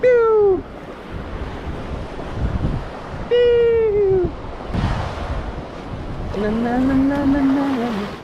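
Ocean surf breaks near a remote mangrove island, giving a steady, broad wash of wave noise. Intermittent high, wavering tonal calls ring out over it.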